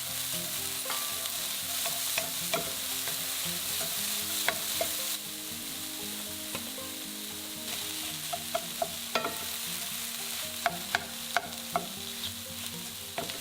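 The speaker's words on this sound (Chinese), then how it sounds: "我炒一下香菇，香菇一定要炒到微微泛黄，有香味出来，再放入胡萝卜、" Shiitake mushrooms, carrot and cauliflower stir-fried in a wok for a vegetable bun filling: a continuous soft sizzle broken by frequent sharp scrapes and clacks of the spatula, close and fairly quiet, with no talking.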